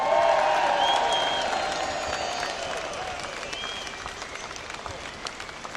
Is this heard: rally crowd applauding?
yes